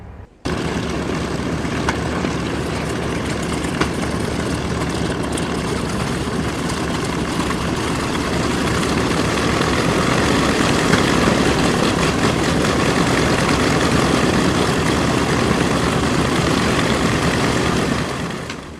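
Propeller airplane engine running continuously, a loud, dense roar with a deep throbbing low end that stays steady and slightly strengthens midway, close by and alone without voices; the aircraft is about 65 years old.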